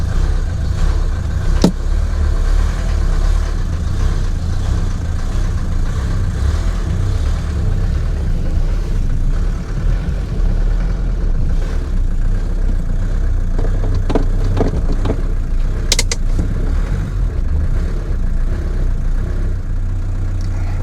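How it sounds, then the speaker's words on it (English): Oldtimer car with a leaking injection pump idling roughly, a steady close low engine rumble that saws unevenly throughout with no voices over it. "You may hear the car is what I would call sawing a bit"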